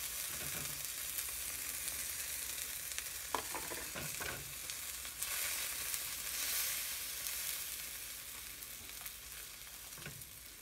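A cheese omelet fries steadily in a pan, a continuous close sizzle with a few soft scrapes and clicks from a utensil.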